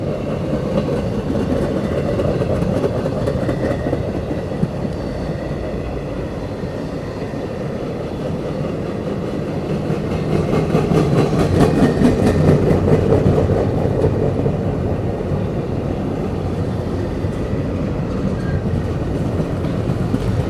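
CSX freight train with four locomotives and empty trailers passing on the Jesup A Line, a steady loud rumble and rolling roar throughout, swelling slightly midway as cars continue to pass.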